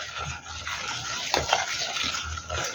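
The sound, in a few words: stirring cookie dough with butter using a spoon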